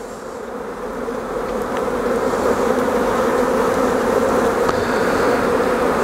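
A dense, steady swarm of honey bees buzzing close by at an open hive, a continuous droning hum that swells slightly and holds without any voices.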